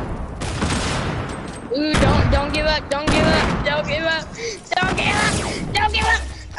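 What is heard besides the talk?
grenade explosion in a video game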